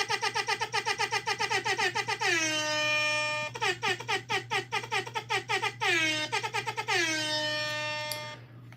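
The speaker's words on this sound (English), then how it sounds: "Let's get the air horn going." A real air horn mounted outside a house blasts in loud, close, stuttering pulses and long sustained wails with falling glides, repeating for several seconds over a steady low hum.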